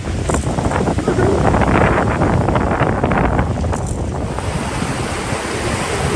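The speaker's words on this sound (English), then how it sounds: "the wind and waves have been kicking it good" Strong wind roars over steady crashing Caribbean Sea waves on a solo sailing crossing, a loud continuous wash of noise with gusts buffeting the microphone.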